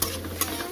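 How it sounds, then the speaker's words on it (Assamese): Tomatoes fry in a pan for mushroom curry, giving a brief, steady, close sizzle with a couple of soft stirring clicks. "বিলাহীখিনি ভালদৰে সিজালৈকে ভাজিব"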